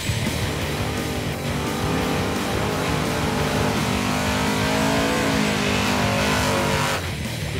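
Supercharged small-block Chevy engine in a drag racing Vega revs hard and loud at the line, holding a sustained roar before launching, with the sound dropping off at the end.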